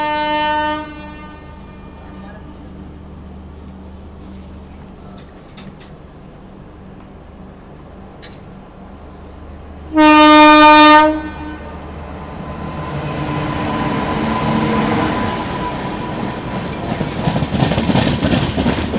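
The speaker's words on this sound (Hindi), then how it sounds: "पीछे से ये आ रही है मगध एक्सप्रेस ओवरटेक करने" Magadh Express overtaking on the Ghaziabad outer sounds a loud, sustained horn blast, then its wagons rumble past with rising roar and rattling, over steady insect chirping.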